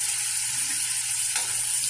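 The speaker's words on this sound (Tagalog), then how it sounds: "lagyan natin ang ating sayote at carrots" Chopped chayote and carrots hiss and sizzle in a hot sauté pan, a continuous, bright crackle of frying vegetables heard close up.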